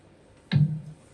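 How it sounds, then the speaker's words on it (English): A single conga hit in a drum pattern, one short close thump with a quick bright attack and a brief low ring. "something like a conga, and it sounds like this"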